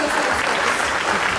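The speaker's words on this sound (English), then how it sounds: "a big round of applause, please" Audience applause at an IAS trivia event, a dense steady wash of many hands clapping throughout, fairly loud and even with no voices standing out.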